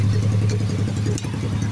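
A motorcycle for sale at a motor shop, running steadily with a low, even engine drone and faint mechanical clatter, close and continuous throughout with no talk.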